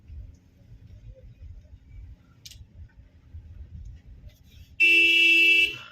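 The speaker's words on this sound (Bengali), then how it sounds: "এবারে পেছনে কি চার চাকা আসছে নাকি? হ্যাঁ, ওইটাই আসছে।" A four-wheeler car comes up from behind on a night-time local road, its engine a low steady rumble that ends in a loud, sustained horn blast lasting about a second.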